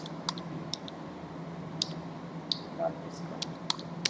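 Keys clatter on a computer keyboard in scattered, sharp clicks, a handful of separate taps over a steady low hum, with a voice talking underneath.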